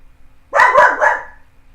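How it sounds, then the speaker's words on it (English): A pet dog barks in a home, giving two or three quick, close barks that run together into a short burst before fading back to quiet. "And there goes my dog."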